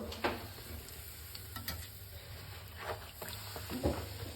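Luchi, puffed Bengali flatbreads, frying in hot oil, giving a close crackling sizzle with scattered sharp pops and stirring clinks throughout, fairly quiet, with no talking.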